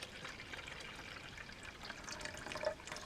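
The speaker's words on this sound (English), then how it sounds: "And this is slightly warmed water from a kettle." Slightly warmed water pours from a kettle into a container, a continuous soft splashing and trickling stream heard close up with no talking.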